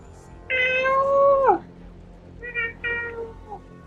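A person imitates a cat, giving two meows: one long drawn-out call, then a shorter pair of mews a second later. The voice is close and clear, in a quiet room, and nothing else is heard.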